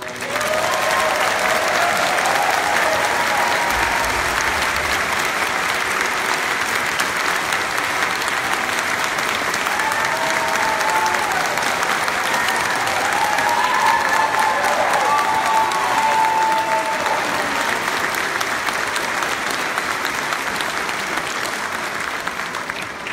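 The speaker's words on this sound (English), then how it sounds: "how about again, applause for Ivan." Sustained, full audience applause at a Christmas concert of songs of praise, steady and dense throughout with a slight swell near the middle, no voices standing out.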